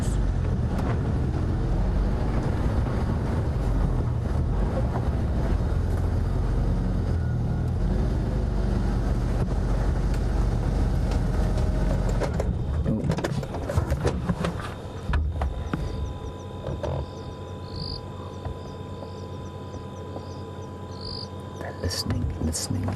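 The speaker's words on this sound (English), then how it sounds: "I'm just going to move the car." A safari vehicle on an evening game drive moves near lions, a steady low engine rumble throughout that shifts partway through, with insects and faint outdoor ambience around it.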